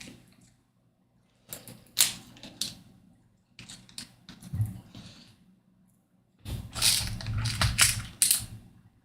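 Small screws on a part of an Ecto-1 model kit being worked loose, with three close bursts of clicking, ratcheting mechanical sounds separated by short silences.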